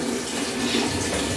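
Hot water pours steadily into a pot or bowl for soup, a continuous close splashing stream with no talk.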